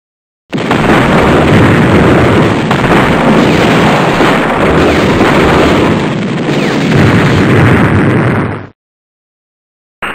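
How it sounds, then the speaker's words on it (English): Artillery strike in the 1994 PC game Iron Cross, a loud sustained roaring blast of explosions lasting several seconds before cutting off abruptly into silence. "Artillery strike ordered."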